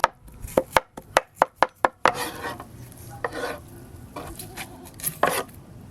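Chicken being chopped into mince on a board, starting with a quick run of about seven sharp, evenly spaced knife thuds, then looser, irregular chops and scraping, close and clear with no talk.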